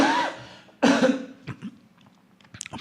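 A man coughs several times in harsh, close bursts, with a strong fit near the start, another at about one second, and smaller throat-clearing sounds and coughs trailing after, no talking.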